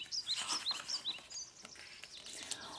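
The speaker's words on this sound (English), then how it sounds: "The bird in the tree." Small bird chirping from a tree in a forest clearing, a quick run of bright, high tweets in the first second followed by scattered fainter calls, fairly close and heard alone with no talking.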